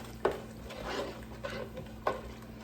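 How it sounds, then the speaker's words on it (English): Seasoning stirred into a pot of Cajun boiled blue crabs with Old Bay, a spoon scraping and knocking against the pot in a few quiet, separate strokes. "Let's mix this together."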